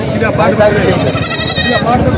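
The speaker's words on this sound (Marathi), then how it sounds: "हे दादा शेळ्या आहेत" Goats bleat repeatedly at the Khandoba goat and sheep market in Parbhani, with several nearby animals calling over a constant hubbub of crowd talk.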